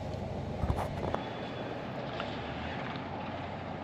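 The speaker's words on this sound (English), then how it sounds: "we can check out the engine sound with the hood up." A 2025 Toyota GR86 engine idles steadily with the hood up, a continuous low mechanical rumble heard close, with a few brief clunks near the start.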